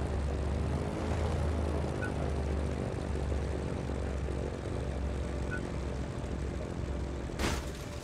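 A propeller-driven airplane in the Just Cause 3 video game drones continuously with a steady, buzzing engine hum throughout, loud and alone.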